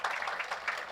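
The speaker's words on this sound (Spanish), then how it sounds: "¿Cuántos pueden dar un fuerte aplauso al Señor?" A burst of clapping from a church congregation, steady and continuous through the brief moment, fairly close and lively.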